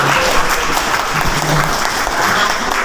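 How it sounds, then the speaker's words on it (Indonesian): Steady applause from an audience at a university teacher-training event for Ahmad Yusuf, dense and even clapping throughout with no break, fairly loud and close. "Kita kasih aplaus dulu untuk Ahmad Yusuf"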